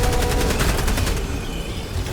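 Rapid automatic gunfire rattles in a Helldivers video game battle, loud and dense at first, then easing into a rougher rumbling tail.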